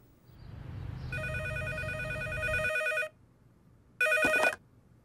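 A telephone rings up close in a French cartoon: one long electronic ring, a short silence, then a shorter second ring, with no talk.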